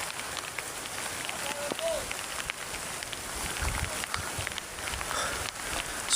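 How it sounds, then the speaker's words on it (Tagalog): Heavy rain pours outdoors near some huts, a constant dense hiss of drops with occasional thuds and rustles, while people talk briefly over it. "Sobrang lakas ng ulan ngayon mga idol."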